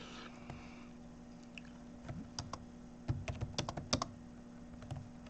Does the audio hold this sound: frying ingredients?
no